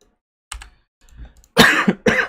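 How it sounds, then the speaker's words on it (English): A person coughs up close: a soft throat rumble, then two loud, harsh, raspy coughs in quick succession, with no speech. "Oh, excuse me, coughing a bit."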